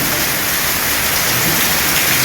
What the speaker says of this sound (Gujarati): અટાણે વરસાદ ચાલુ છે